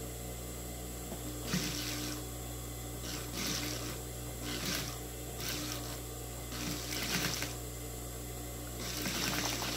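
Sewing machine stitching the hem of a cotton dish towel, running in several short bursts of rhythmic mechanical whirring with brief pauses between, close and fairly loud over a steady hum.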